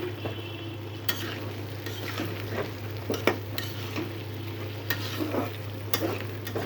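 Dried churi fish frying with onion in oil, a constant sizzle broken by scraping stirs and sharp clinks of a spatula against the pan, close up and with no voices.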